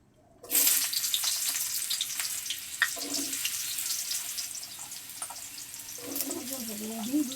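Food frying in hot oil in a pan, a steady close sizzle that starts suddenly and runs throughout, with occasional clinks and a voice speaking near the end.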